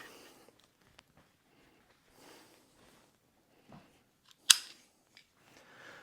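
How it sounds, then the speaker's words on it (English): A handgun slide is slammed forward to clear a double feed, giving one sharp, loud metallic clack in an otherwise quiet stretch with a few faint handling sounds. "when you're dealing with a double feed and remedial action, slam it forward"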